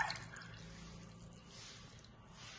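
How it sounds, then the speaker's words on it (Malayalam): Water poured into a pressure cooker while making rice porridge, a soft, steady trickling pour that stays fairly quiet and continuous throughout. "ഞാനൊരു മൂന്നര ഗ്ലാസ് വെള്ളമാണ് ഒഴിക്കണത്"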